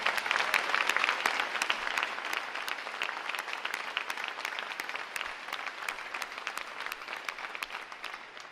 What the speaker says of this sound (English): Round of applause for our entire NSI staff.